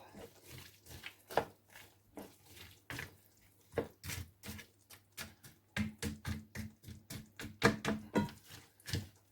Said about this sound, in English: So I'm going to give this a good stir